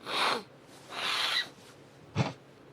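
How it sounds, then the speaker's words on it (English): Three close, breathy sniffs in a quiet room, the last one short and sharp. "it's so hard to listen with you sniffling"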